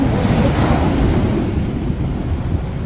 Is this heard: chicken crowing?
no